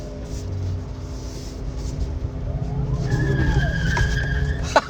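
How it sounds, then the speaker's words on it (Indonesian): A DFSK Mini EV electric car drifts, its tires squealing and skidding in a rising, loud screech over low road rumble, with no engine roar. "Drifting lagi ya sekali."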